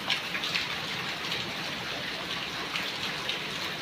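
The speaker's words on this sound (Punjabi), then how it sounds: "ਫਿਰ ਮੀਂਹ ਆ ਗਿਆ" Steady rain falls outdoors on a Punjab afternoon over standing paddy fields near a canal, a dense, continuous hiss of drops with no break and no voices.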